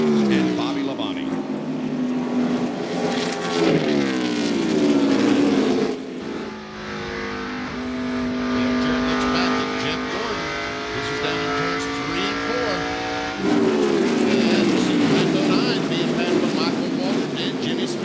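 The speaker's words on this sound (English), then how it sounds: "Last time by, Jeff Gordon was the fastest car in the top 6." NASCAR stock cars race at Darlington Raceway during the 1997 Southern 500, producing a loud, continuous engine roar with pitch sweeping up and down as cars pass. Commentators talk over the noise.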